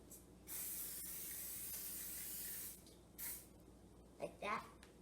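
Cooking spray hisses onto a muffin tin in one long, steady burst lasting over two seconds, followed by a short second spritz, with brief background talk near the end.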